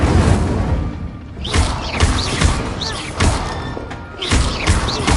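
Incendio fire spells cast in Hogwarts Legacy, a run of loud whooshing blasts and heavy thumps arriving in quick bursts, each flaring sharply then trailing off, layered over a dense rumble of combat.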